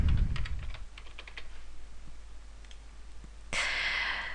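Someone types on a computer keyboard into Notepad, a rapid irregular run of soft close key clicks at moderate volume, then a hiss of room noise that grows brighter near the end.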